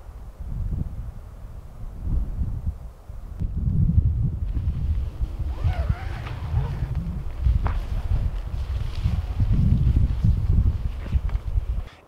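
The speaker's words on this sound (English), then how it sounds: "It is really windy out." Steady wind buffets the microphone in low rumbling gusts outside a tent, with faint rustling and shuffling nearby, no talking.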